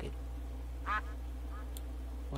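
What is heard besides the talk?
duck quacking in a video game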